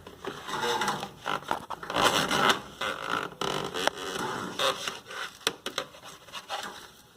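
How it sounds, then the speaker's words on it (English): Someone scrubs grime out of the drip tray of a Samsung fridge, reaching far back with quick back-and-forth strokes. The rough, scraping rubbing is close and busy throughout, with no talk. "You're just trying to reach all the way back and forth, back and forth, back and forth, scrubbing and all that nasty's out of there."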